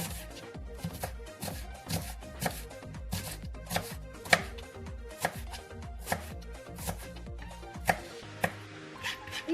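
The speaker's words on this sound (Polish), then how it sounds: "drobniutko pokroić" Knife finely chopping vegetables such as carrot on a cutting board for Ukrainian borscht, a steady rapid series of close, crisp taps with no talking.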